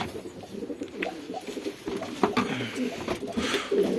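Homing pigeons coo in low, throaty, overlapping murmurs close by, a steady soft warbling with no one speaking.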